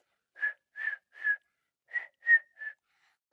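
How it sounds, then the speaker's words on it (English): A person whistles a short tune of six or seven clear, separate notes, each brief and steady in pitch, with small pauses between them. The whistling is close and alone, with no talking or background noise. "I learned how to whistle."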